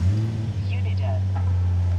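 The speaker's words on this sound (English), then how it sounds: "So let's start the car up." A Nissan 350Z HR engine runs just after a cold start with fresh engine and transmission oil, a steady, low, droning idle close by, with faint sounds over it.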